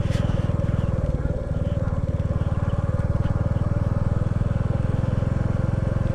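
Royal Enfield Bullet motorcycle riding on a dirt road, its thumping single-cylinder exhaust pulsing in a fast, even beat close by and loud throughout, with no talk over it.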